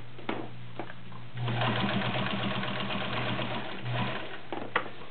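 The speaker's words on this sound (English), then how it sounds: "we're going to sew a Levi's pocket, seams and all, using a size 18 needle." A vintage Kenmore Model 1601 sewing machine with a size 18 needle stitches through Levi's pocket seams. Close, fast mechanical chatter runs for a couple of seconds, then briefly starts again, with quiet pauses around it.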